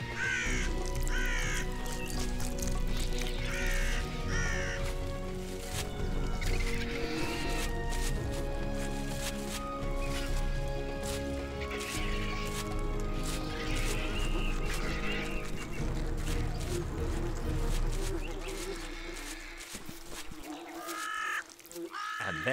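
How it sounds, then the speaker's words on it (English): Black vultures squabbling over a carcass in the wild, harsh raspy hisses and grunting calls in repeated bursts, close and busy, over a constant low rumble of background noise. "Then other ravenous vultures are also encouraged to peck the corpse."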